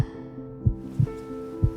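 Heartbeat in the romance game Love and Deepspace: three soft, low thumps about a second apart, with a gentle tonal game backdrop underneath.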